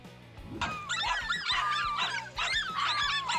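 Several dogs cornering a lizard, yipping, whimpering and barking in rapid overlapping bursts, close and agitated.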